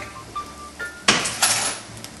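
Dishes clatter into a sink: a few light clinks, then a louder crash of crockery and metal, followed by a second rattle.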